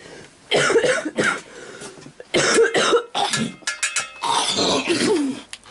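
Repeated harsh coughing fits from a game character suffering radiation sickness, loud and close, coming in several bursts with short pauses between them.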